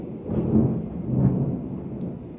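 Low thunder rumbles ahead of rain, two soft swelling rolls about half a second apart, distant and fairly quiet with no voices.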